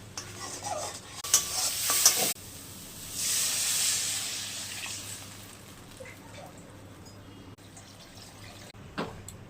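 Dried red chillies, ground spices, salt and turmeric frying in oil for a rohu fish curry, a close sizzle that flares into a burst of hissing, then settles to a quieter fry with stirring clinks.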